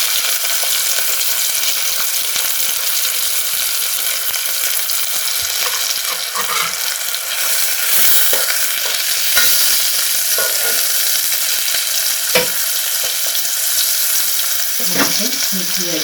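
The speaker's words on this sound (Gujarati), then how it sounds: "ડુંગળી થોડી તેલમાં સોફ્ટ થઈ ગઈ છે." Finely chopped onion softening in hot oil in a pan for a Gujarati dal papad curry, a steady close sizzle and frying hiss with occasional stirring scrapes and faint water clinks.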